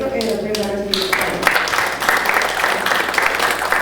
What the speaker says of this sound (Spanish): Demos un fuerte aplauso al maestro Eduardo Álvarez Muñoz.